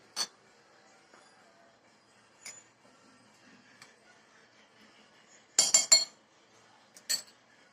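A spoon clinks and scrapes in a bowl while mixing fasting meduvada batter with crushed peanuts, sparse quiet taps separated by near silence, with a cluster of sharper clinks later on.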